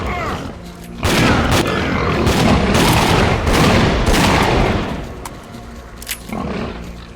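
Rapid bursts of gunfire and booming shots from a firefight in the video game S.T.A.L.K.E.R. Clear Sky, loud and dense with overlapping volleys, easing toward the end.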